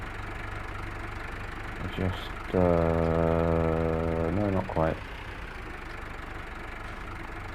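A tractor engine idles in a steady, low rumbling drone throughout, with a brief spoken voice over it partway through.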